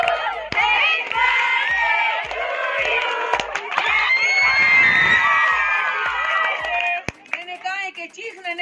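Children shout and cheer loudly at a birthday celebration, a dense, continuous crowd of young voices with a few sharp claps and whoops, close and sustained throughout.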